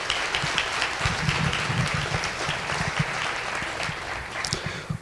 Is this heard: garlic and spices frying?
no